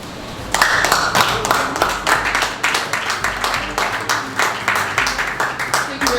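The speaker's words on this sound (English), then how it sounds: "Please, another round of applause for them." A crowd at a designathon pitch session applauds steadily, dense clapping starting abruptly and continuing at an even level throughout.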